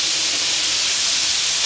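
Cantonese-style chicken wings frying in oil on high heat, a loud dense sizzle close up that holds steady throughout, no talking.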